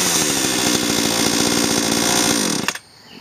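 A BlueMax chainsaw runs loud and steady after being pull-started on the ground, its rapid engine chatter holding for over two seconds before cutting off abruptly into near silence.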